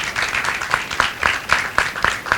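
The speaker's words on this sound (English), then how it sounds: "Can we please have a big round of applause for Prateik?" An audience at a special session honouring Smita Patil applauds Prateik, a dense burst of clapping from many hands, fairly near and steady for a couple of seconds.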